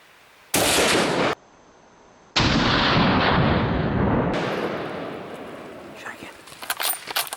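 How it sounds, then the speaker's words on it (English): Two loud rifle shots ring out close by during a hunt in the Ruahine range, each followed by a long rolling echo that fades away, with people speaking afterward. "Shoot that off. Yep, shoot that off."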